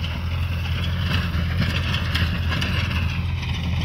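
Mahindra 575 DI XP Plus tractor working a field in low first gear at about 1500 RPM, pulling a Mahindra gyrovator that churns soil about 3 inches deep, a steady loud diesel drone with churning rumble throughout.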